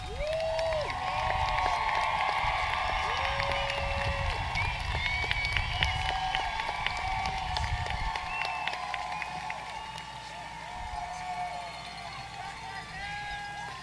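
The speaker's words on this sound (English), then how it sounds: "let's give you guys a big round of applause" A crowd at a high school commencement applauds and cheers for student athletes, a continuous spread of clapping with whistles and shouts, heavier at first and easing after the midpoint.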